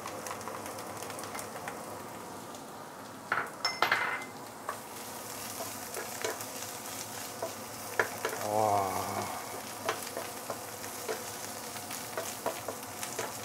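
Mushrooms sauté in hot oil on top of fermented beans, a constant close sizzle with clattering stirs and utensil knocks against the pan, and one brief louder hiss partway through.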